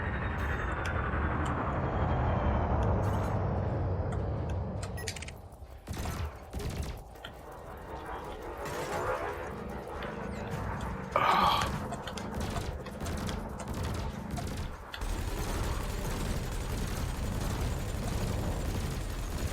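Spaceship weapons in Elite Dangerous fire on a harmless training drone. Rapid mechanical bursts and clattering shots sound over a steady engine hum and stop and start across the whole stretch.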